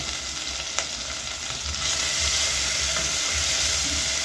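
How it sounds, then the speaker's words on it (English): Onion, garlic and ginger fry in hot oil with a steady, close sizzle that swells louder partway through, with a brief clatter of stirring near the start. "My oil is hot. I go in with onion, garlic,"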